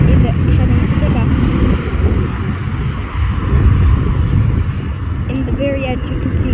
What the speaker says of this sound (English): the Embraer is lifting off